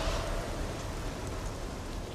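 Steady rain falls in Paris, an even, unbroken hiss of drops with no pauses and no voices.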